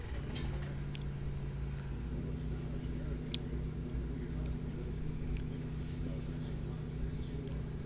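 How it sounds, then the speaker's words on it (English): A green Kawasaki motorcycle and a 1987 Oldsmobile at a dragway bracket race make a constant engine drone and rumble at moderate distance, steady throughout with faint outdoor background noise. "Johnson up on the green Kawasaki out of Peoria Heights, Illinois"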